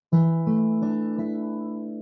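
A single strummed open-position suspended fourth guitar chord rings out clearly with a slightly unresolved quality, sustaining and slowly fading over two seconds.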